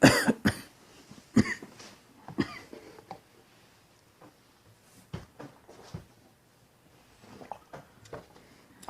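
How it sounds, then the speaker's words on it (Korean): Repeated coughing during a church sermon, several sharp bursts scattered across the stretch, some clustered in pairs, with quieter throat-clearing sounds between them, close to the listener. "기침이 자꾸 나오네"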